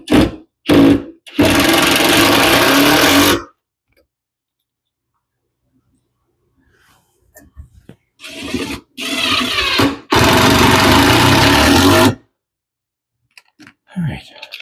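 Cordless drill driving screws through clamped boards with a tough bit in a workshop: two loud bursts of whirring drive with short clicks between, separated by a quiet pause with faint handling noises.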